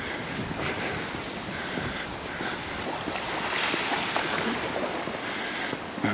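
Waves washing onto a beach at Cala Gamba, Mallorca, with seaweed piled on the shore; a steady broadband surf wash mixed with wind buffeting the microphone, continuous and moderately loud, no voices.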